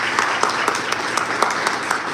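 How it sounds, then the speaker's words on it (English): Audience at an actors' studio event gives a short, steady burst of applause, many hands clapping at once, fairly loud and close, with no clear talk over it. "Big round of applause to John Braddock."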